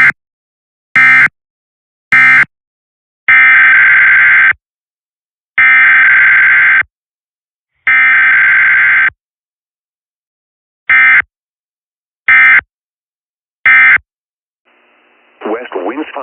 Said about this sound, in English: This is a required weekly test of the North Dakota Emergency Alert System.